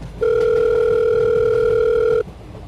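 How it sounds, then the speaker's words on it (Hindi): A steady electronic telephone dial tone sounds loud and clear for about two seconds as a call is placed, then cuts off abruptly to quiet background. "उसने फ़ोन निकाला और अपने घर अपनी बीवी रिया को कॉल किया।"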